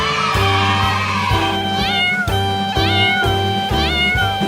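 Cartoon kittens meow in quick, rising and falling cries over a steady backing tune, repeated several times close and loud.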